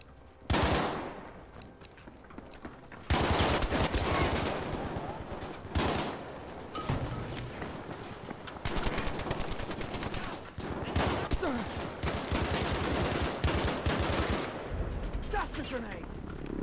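Gunfire rattles through a frantic firefight in Battlefield V, with dense bursts of automatic fire and loud close shots that come in waves, while a voice talks between and over the shooting.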